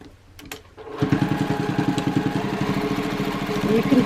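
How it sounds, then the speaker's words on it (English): A sewing machine runs in a fast, steady stitching rhythm as it drives through layers of thick fabric seams on an origami slouch bag, starting after a brief pause and staying loud and close throughout. "And then I will go back and I will stitch again."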